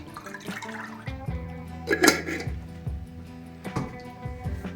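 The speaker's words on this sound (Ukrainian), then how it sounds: "вливаємо молоко наше в ємкість" Milk is poured into a bowl for crepe batter: a short, close liquid stream that splashes and gurgles, swelling briefly midway before trailing off, with no voices.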